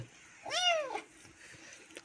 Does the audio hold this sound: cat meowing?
yes